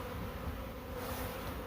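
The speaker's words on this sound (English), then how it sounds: "These bees are super docile." Honey bees from a newly installed package buzz around the hive in a steady, soft, close drone with overlapping wingbeats, quiet and without talk.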